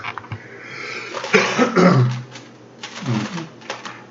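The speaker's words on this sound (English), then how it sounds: "I talk so much I have to clear my throat constantly." Several rough coughs and throat-clearing grunts in short bursts, close and fairly loud, with brief pauses between them.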